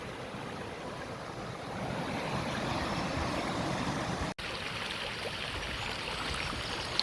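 A brook flows out of a breached dam pool in a valley in the Peak District, Derbyshire, making a steady close rushing wash of water with no talk, swelling slightly after the start and dipping for an instant partway through.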